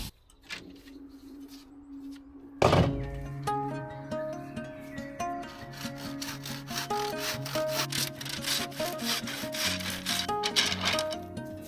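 Handsaw cutting through a bamboo cane in steady back-and-forth strokes, close and fairly loud, with a woody rasp that carries on after a sharp knock at the start.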